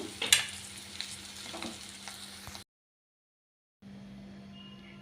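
A spoon stirs chicken liver and kandanakaya fry in a hot pan, with a steady sizzle and scraping, close and moderate in loudness, then a brief silent gap before the sizzle returns, with no talk.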